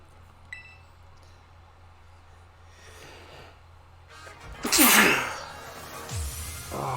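A person sneezes once, a sharp loud burst near the end after a quiet stretch, followed by a breathy snort-like exhale; faint household background beforehand.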